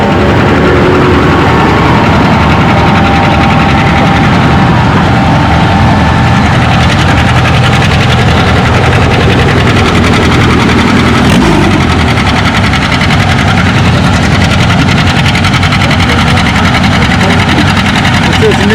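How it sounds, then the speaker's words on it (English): A John Deere 830 tractor engine roars loudly and steadily at a tractor pull, a continuous heavy low rumble with a public-address announcer talking over it. "next up we got Robert on the John Deere 830"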